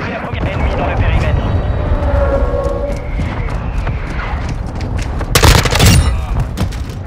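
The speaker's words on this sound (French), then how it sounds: "Frappe de mortier en approche." Mortar strike explosions rumble in a Modern Warfare 2 match, a dense continuous roar of booms and distant gunfire with a sharper blast near the end, mixed under game voice chatter.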